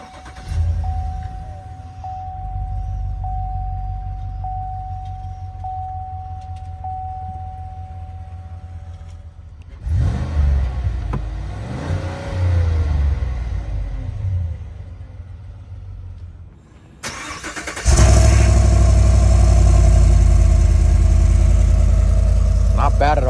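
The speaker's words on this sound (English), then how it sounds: "hit the center-mounted engine start-stop button to go." A 2017 Cadillac Escalade Platinum engine turns over and settles into a low steady idle, then revs up louder near the end, with a quiet hum beforehand.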